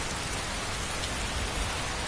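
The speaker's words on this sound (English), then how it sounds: "The rain is very loud on my headphones." Heavy rain pours steadily and loudly, a dense, unbroken wash of drumming drops with no voices over it.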